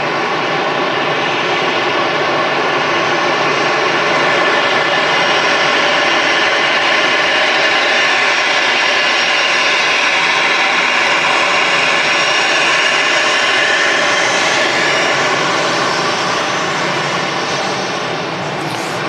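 An easyJet airliner, a ten-year-old aircraft built in 2012, arriving at Manchester Airport after an hour's flight from Jersey, its jet engines giving a loud, steady, broadband roar that holds for nearly twenty seconds with no talking.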